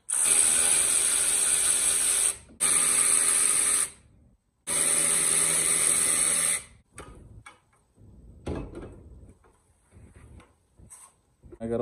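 A ratchet clicks out spark plugs on a Nissan 300ZX engine in three long, loud, rapid bursts of close clicking, followed by quieter scattered metallic knocks and handling sounds.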